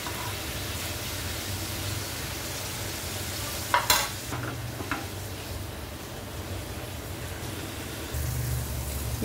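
Paneer sautéing in a pan on a home stove for Indian paneer lababdar, a steady soft sizzle and stir with a few brief clinks of a utensil against the pan, no voices.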